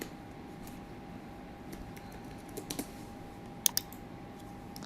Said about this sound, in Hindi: यहाँ पर मैं डेट लिखता हूँ 15